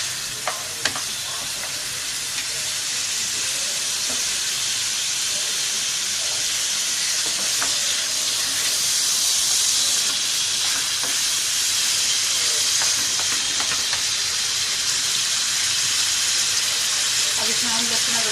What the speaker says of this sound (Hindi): अच्छे से 3 से 4 मिनट इसकी हमें भुनाई करनी है।